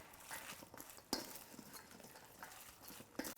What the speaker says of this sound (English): now you just mix it all together